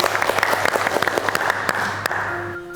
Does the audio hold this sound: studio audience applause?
yes